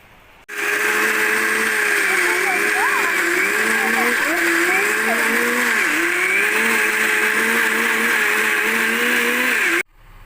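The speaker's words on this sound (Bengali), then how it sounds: "এবারে এটা আমি মিক্সিতে পুরো একটা পেস্ট বানিয়ে নেব" A kitchen mixer grinder whirs loud and steady as it grinds mustard into a paste for mango kasundi, starting abruptly and cutting off near the end with a wavering high motor whine.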